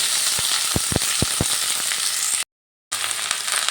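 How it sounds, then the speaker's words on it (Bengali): Chopped cabbage drops into hot oil tempered with panch phoron, giving a few sharp clattering hits and then a steady, close sizzle of frying that briefly cuts out. "এবার দিয়ে দিচ্ছি কেটে রাখা বাঁধাকপিগুলো"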